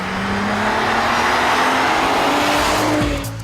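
A Volkswagen Golf R32 with its V6 engine drives under steady load, a loud continuous engine drone with a rising tonal note and road roar that eases off near the end, no talk.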